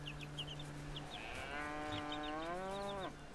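Cattle mooing in the farming game Bellwright, a long, loud drawn-out moo with gliding harmonics near the end, over soft farmyard ambience and a few faint clucks from chickens.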